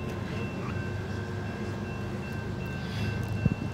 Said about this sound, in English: First train of the day.